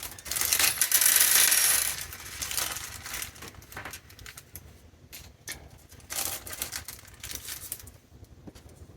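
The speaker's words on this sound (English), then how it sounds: "Then I take off one set with the screws." Small screws are taken out of an aluminium Raspberry Pi case, giving close metallic clicks, light rattles and scraping handling noises, with a louder burst near the start.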